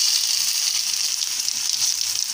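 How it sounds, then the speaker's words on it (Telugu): Tomatoes fry in a pan for peanut chutney, a loud, steady sizzle that holds unbroken throughout, heard close up. "టమాటాని కూడా వేయించుకోవాలండి."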